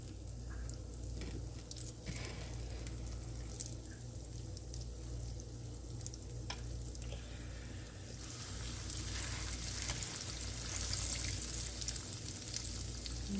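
Coconut-coated chicken pieces frying in oil in a pan, a continuous close hiss and crackle of sizzling that grows slightly louder toward the end, with no talking.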